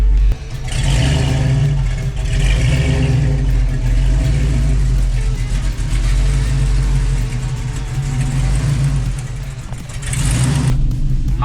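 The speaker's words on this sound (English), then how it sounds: "let's go for a little test drive. See how this thing drives, runs, and ships" A car's engine runs steadily on a test drive. The loud, continuous low rumble lasts about ten seconds with slight shifts in revs and road noise, then eases off near the end.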